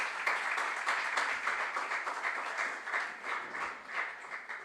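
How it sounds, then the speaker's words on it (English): Steady applause from an audience at a junior science and maths quiz, a continuous patter of many hands clapping at moderate volume. "Let's clap for them again."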